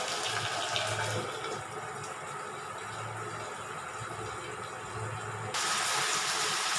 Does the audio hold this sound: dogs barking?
no